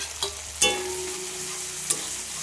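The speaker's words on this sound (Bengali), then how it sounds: "এবার ইলিশ মাছের মাথাটা দিয়ে দেওয়া হলো" A hilsa fish head goes into a pan with salt and turmeric, setting off a strong close sizzle that stays steady and broad, with a few sharp scrapes of stirring on top, no talking.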